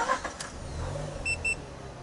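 A Mazda RX-8 GT rotary engine cranks and catches quickly, a brief low rumble settling into idle, followed by a couple of short electronic beeps from the car, heard at moderate distance without talk.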